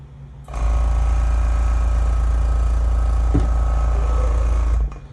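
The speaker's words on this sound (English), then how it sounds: "That's from my airbrush compressor kicked on us." Airbrush compressor kicking on: a loud, steady motor hum with a strong low drone starts abruptly, runs evenly for about four seconds with a brief click midway, then cuts off.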